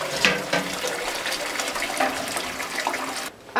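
Goat milk curds and whey pouring and draining into a colander, a steady gushing, splashing flow of liquid heard close up that cuts off abruptly near the end.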